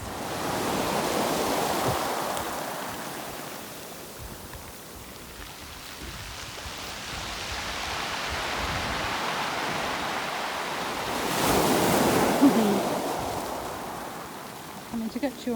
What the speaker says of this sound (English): And the sea coming in, the tide coming up.